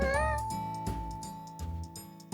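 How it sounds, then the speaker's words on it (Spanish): A family of cats with kittens meows in a few short, clear, close calls separated by pauses. "Esta es una familia de gatos felices."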